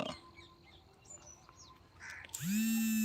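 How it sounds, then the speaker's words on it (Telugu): Scattered bird chirps and tweets ring out in the distance over a quiet, foggy winter village morning, until a loud mechanical whine rises and drowns them near the end. "ఇటు పక్షుల శబ్దాలు కిలకిల"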